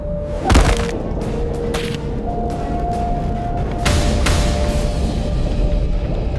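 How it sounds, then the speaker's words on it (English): A sharp rifle shot cracks out across Arctic ice, then a second shot a few seconds later, each followed by a rolling echo over steady low outdoor rumble. "The shots echo across the ice."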